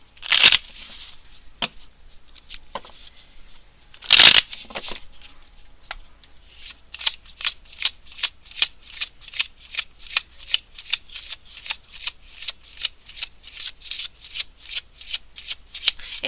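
Love Oracle cards are shuffled by hand for a tarot reading: two loud riffles, then a long run of quick, rhythmic card slaps and brushes, close and clear with no talk.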